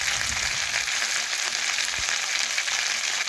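Cumin, black pepper and garlic paste sizzling with tomato and onion as they are stirred in a hot pan, an even, close, continuous frying hiss with no voices.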